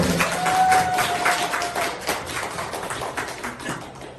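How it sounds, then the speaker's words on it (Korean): Audience applause at a televised event, a steady patter of many hands clapping that gradually fades toward the end. "박수 주세요."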